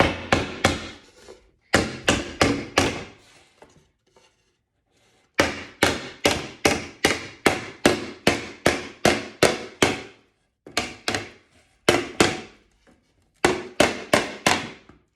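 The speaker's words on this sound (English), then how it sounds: "there's a lot of noise and a lot of banging and things like that that are gonna happen with this project" A hammer pounds nails while old wooden drawer bottoms are replaced, striking in rapid, sharp runs of blows with short pauses between bursts, loud and close with no talk.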